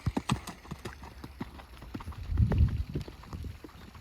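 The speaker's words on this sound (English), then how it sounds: "Kyle's trying to get a nice collected canter." A horse in a collected canter on a hack, its hooves beating a steady, rhythmic clip-clop that is close and fairly loud and swells briefly near the middle.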